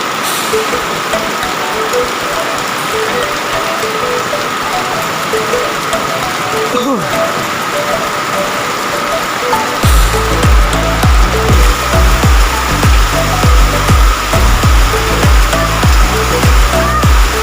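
Heavy rain pours steadily, a dense hiss throughout; midway a loud rhythmic pounding starts, like water drumming hard on a surface, and continues to the end.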